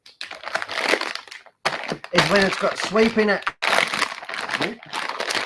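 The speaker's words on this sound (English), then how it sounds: "Rustling plastic." Plastic crinkles and rustles over someone talking steadily, the crackly rustling mostly buried under his voice.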